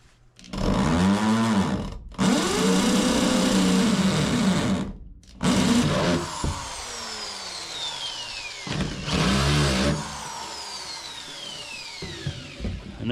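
A power drill bores out seat belt mounting bolt holes in a 1952 Chevrolet during custom upholstery work, loud whining bursts that rise and fall in pitch, stopping and restarting several times with short gaps.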